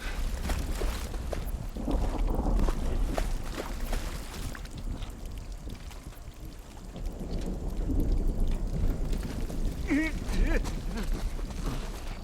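Rain and rolling thunder in the video game The Last of Us, in a ruined building: low rumbles swell and fade over a steady patter of rainfall, moderately quiet and without speech.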